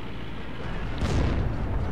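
Gunfire from behind the player in the World War II shooter Heroes & Generals comes as dull, muffled bursts and a deeper boom midway, set in a constant rumbling battlefield background with no speech.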